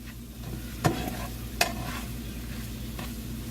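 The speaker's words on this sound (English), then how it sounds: "So we're going to stir this up." Cabbage being stirred in a cooking pan, with a utensil scraping and clacking twice against the pan over a steady low sizzle; no talking.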